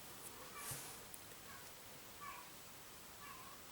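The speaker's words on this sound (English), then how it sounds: "It's a cat there. What she does is moves the toy, and then she is like a present for you." A cat meows several times while nudging a toy, short faint mews spaced across the moment against a quiet indoor background.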